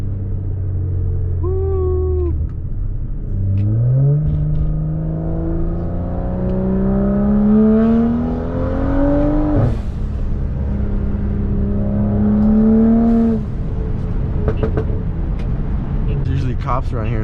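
A BMW F10 535i fitted with a Turbosmart blow-off valve revs and accelerates, its engine note climbing in long rising sweeps with a sharp break partway through, loud and close, with a voice talking over parts of it.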